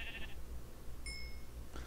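A sheep in the Minecraft video game gives a short, faint bleat at the start, and a second brief game cue follows later, all over a low steady background hum.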